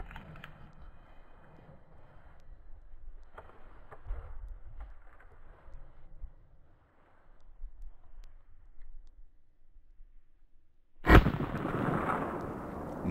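Quiet outdoor ambience during a moose hunt in a Swedish forest gives way to a single sharp, loud rifle shot near the end, followed by a rolling echo.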